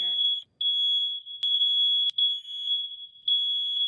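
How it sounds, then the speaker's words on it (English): A fire alarm under test sounds indoors as a loud, continuous high-pitched electronic tone, briefly cutting out a few times with sharp clicks before resuming. "they're testing fire alarms"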